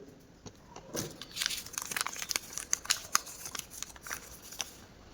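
Paper slips rustle and crumple as they are shuffled and handled, with a run of close, crisp crinkles and small sharp crackles, fairly quiet and with no talk over them.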